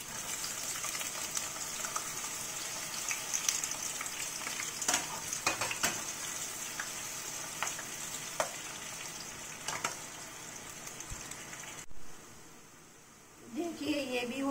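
Raw banana slices frying in hot oil at home, a steady crackling sizzle with occasional pops and stirring clinks, fading near the end before a brief scrape.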